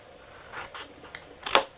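A corner is trimmed off a scored paper sheet for a window box, giving a few soft snips and rustles with one sharper cut at the end, close and quiet.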